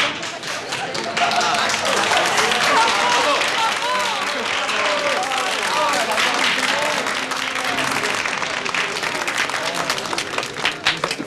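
A theatre audience in a period setting breaks into sustained applause, dense and loud clapping with a crowd murmur, holding strong throughout and thinning slightly at the end.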